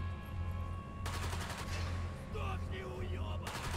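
Gunfire in the War Mongrels video game: a dense burst of rapid shots cuts in about a second in and rattles on, then returns near the end, over a steady low game hum.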